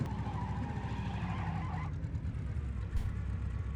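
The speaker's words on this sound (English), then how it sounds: "We're gonna gas it up and we're gonna boost all the way." A BRDM-2 armored vehicle in PUBG drives under boost with a steady, moderately loud engine drone and tire noise, a brief whine fading midway, and a small thump near the end, without talk.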